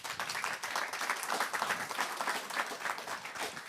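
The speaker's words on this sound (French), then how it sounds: "On peut l'applaudir." Dense, even applause from an audience at a French scientific talk, moderately quiet and steady throughout, with many hands clapping together and no voices standing out.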